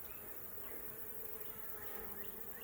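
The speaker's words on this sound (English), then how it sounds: "these bees are feral. They're not the most gentle." Feral honeybees around a hive buzz steadily in a continuous, fairly quiet drone, with individual insects whirring past now and then.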